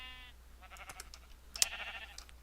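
A sheep bleats faintly in the Minecraft video game, a short wavering call followed by a few softer game noises and another brief bleat.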